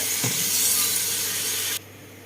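Beef sizzling loudly as it stir-fries with coriander root in a hot pan for pad see ew, a bright steady hiss that fills the moment and then cuts off abruptly, leaving faint background noise.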